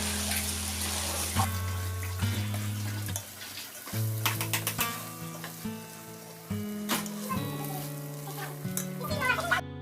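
Rice being fried and stirred in a pan while making prawn biryani with biryani leaf, a steady sizzle with scraping stirs and clinks running throughout, close and fairly loud, with no talking.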